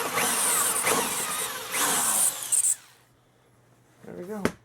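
A power drill whirs in three short bursts while driving bolts into a DIY racing-seat computer chair. It is followed by a pause and then a brief final whine.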